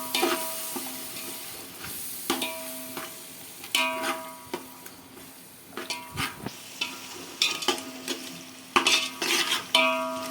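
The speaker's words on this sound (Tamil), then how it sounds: "நம்ம இது நல்லா கிண்டி விட்டுக்கிறோம்" Prawn biryani masala with yogurt stirred in a pot, a soft sizzle beneath intermittent scrapes and taps of a spoon against the metal pot, fairly quiet and irregular.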